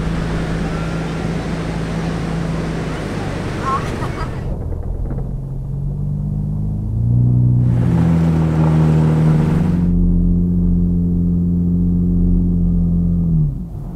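A 4WD drives onto soft sand at Goolwa Beach near the Murray River mouth, steady close engine rumble rising and falling through gear changes, with no talk.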